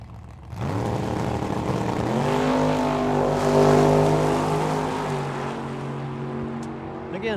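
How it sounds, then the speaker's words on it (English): A 2021 Dodge Challenger Hellcat launches down a drag strip, its engine erupting into a loud, rising roar that holds strong for several seconds before fading as the car pulls away. "Up against Benjamin Borquez in that new bodied style Challenger. That's a 21 Hellcat"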